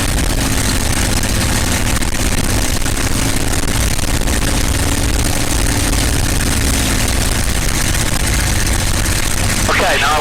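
A North American P-51 Mustang's piston aircraft engine runs steadily at about 2,300 RPM, a loud, continuous low drone with broadband roar that holds level throughout without pause.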